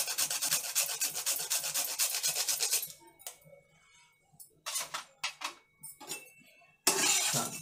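Whole nutmeg is rasped against a hand grater for biryani masala, making rapid rhythmic scraping strokes that break into short separate bursts, then resume briefly.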